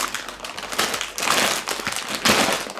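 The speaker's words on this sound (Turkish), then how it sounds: "çantayı ve aksesuarları çıkarmak için poşeti yırtın" A plastic toy packaging bag holding a plush bag and accessories is torn open by hand, giving rustling, crinkling bursts of thin plastic at close range, loud and irregular, without talk.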